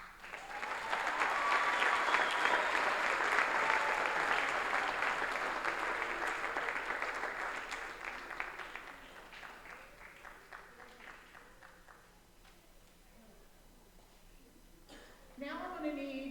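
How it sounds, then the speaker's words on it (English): Audience applause at a high school spring band concert, honoring the graduating seniors: a dense, sustained wash of clapping from a large crowd that gradually thins and fades, with a brief swell of cheering near the end. "We want to give these seniors a round of applause."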